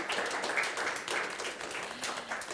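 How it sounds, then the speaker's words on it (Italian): An audience claps steadily, a dense patter of many hands at moderate volume, continuing without pause. "Un applauso ragazzi."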